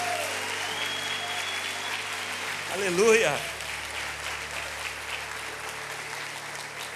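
A church congregation applauds steadily, a continuous wash of clapping. Near the middle a single voice calls out briefly above it, and the clapping then carries on at an even level.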